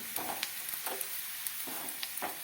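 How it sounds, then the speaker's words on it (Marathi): Onions frying in a pan until they turn reddish-brown, for a rice dish with raisins and carrots, give a steady, moderately quiet sizzle broken by light, regular scraping strokes of stirring, with no one speaking. "कांदा आता चांगला लाल होईपर्यंत घेतलाय भाजून"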